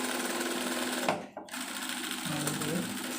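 Close, loud rapid clatter of a sewing machine stitching fabric, briefly pausing before resuming its steady run.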